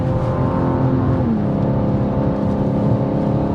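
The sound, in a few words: BMW M2 G87 accelerating on a race track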